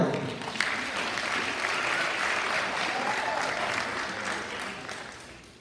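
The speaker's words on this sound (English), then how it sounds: "Applause for Lori." An audience at a school fall activities parent meeting claps steadily, a dense wash of applause that swells and then gradually fades over several seconds.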